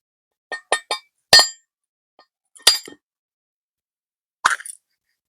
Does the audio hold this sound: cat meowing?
no